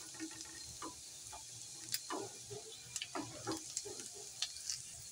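Finely chopped ginger and garlic fry in a pan, a quiet, steady sizzle broken by scattered crackles and light stirring clicks, close but faint, with no voices.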